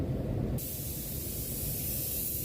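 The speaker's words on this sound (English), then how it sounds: "we just chuck on a real light dust coat and let that flash off" An HVLP spray gun lays a light dust coat of PPG Nexa water-based paint onto a car panel, giving a steady close hiss of air and atomized paint that shifts slightly in tone partway through.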